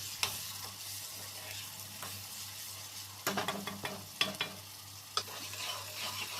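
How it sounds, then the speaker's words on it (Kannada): Egg keema frying in oil in a pan, a steady hiss of sizzling with occasional sharp scrapes and clinks of a spoon stirring, close and fairly quiet, no talking. "ನಂತರ ಅದನ್ನು 2 ಮಿನಿಟ್ ಫ್ರೈ ಮಾಡೋಕೆ ಬಿಡೋಣ. ಎಣ್ಣೆಯಲ್ಲೇ ಚೆನ್ನಾಗಿ ಫ್ರೈ ಆಗಬೇಕು."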